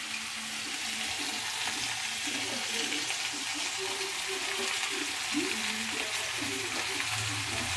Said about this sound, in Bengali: এর মধ্যে পেঁয়াজ টমেটো আর কাঁচা লঙ্কা একসঙ্গেই দিয়ে দিলাম এগুলো তো ভাজা ভাজা হয়ে গেলেই